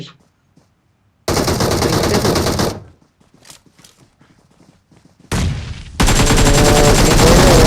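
Bursts of rapid automatic gunfire in the video game Free Fire crackle loudly, broken by short quieter gaps with scattered single shots, then resume in a sustained stream.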